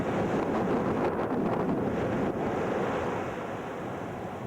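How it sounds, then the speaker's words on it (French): Storm wind buffets the microphone while rough, churning sea waves break steadily on a New Caledonia beach, a loud, continuous roar with no pauses. "Il y a un vent terrible et il ne fait pas chaud du tout. La mer est un peu démontée."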